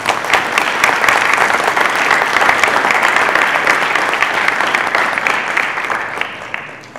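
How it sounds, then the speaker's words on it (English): A memorial audience applauds in a dense, sustained burst of many hands clapping at once, steady and full for about seven seconds before easing slightly at the end. "can we give them another round of applause?"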